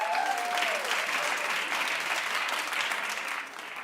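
Studio audience at a talk show breaking into loud, sustained clapping that holds steady for several seconds before starting to taper off, dense and close with no voices on top.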